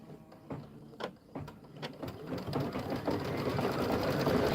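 An embroidery sewing machine stitches a quilting stitch on a bench pillow, starting with a few separate clunks, then settling into a steady, rapid mechanical whirr that builds and continues close by.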